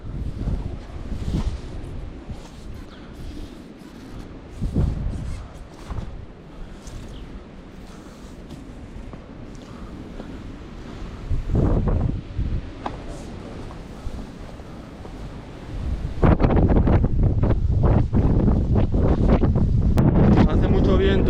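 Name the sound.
strong wind blowing into the microphone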